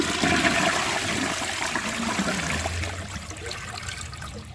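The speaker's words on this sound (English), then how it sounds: "So now let's give it a second flush." A Duravit Starck 3 toilet flushes loudly and close up, a strong rushing surge of water that eases into a gurgling, trickling refill.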